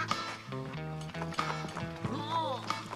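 Cartoon horse hooves clip-clop in a steady rhythm in a Lucky Luke animated episode, mixed with background music and a brief whinny-like flourish near the end.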